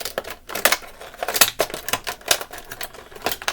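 Scissors cut roughly through toy card packaging with a plastic blister, a quick run of crisp, uneven snips and crinkles close by, with no voices.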